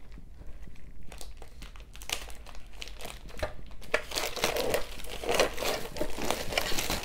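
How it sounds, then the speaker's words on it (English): Plastic wrapping peeled and pulled off a pre-assembled makeup organizer, a steady run of close, crisp crinkling and crackling with sharper tearing bursts that grow louder toward the end. "So let me just remove the plastic too."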